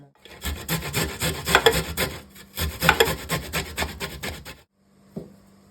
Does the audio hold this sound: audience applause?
no